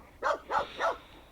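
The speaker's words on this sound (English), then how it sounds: "Woke dog up, she's freaking out now." A dog barks three times in quick succession, loud and close, with brief gaps between barks and no other sound around them.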